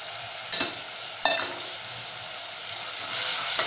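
Tomatoes with a little salt sauté in a pan for a spicy chicken dish, giving a steady close sizzle with two sharp scrapes of stirring early on.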